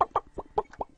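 Chicken clucking in five quick, evenly spaced bursts within a second, close and clear against a quiet background with no talking.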